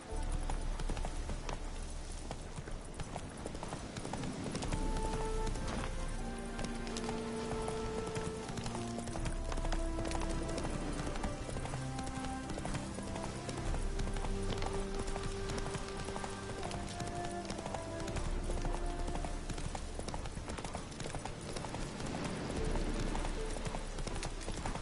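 Hooves of the horse Roach clop in a steady rhythm in The Witcher 3: Hearts of Stone, pacing evenly under a continuous bed of game music, with a brief line of speech near the start.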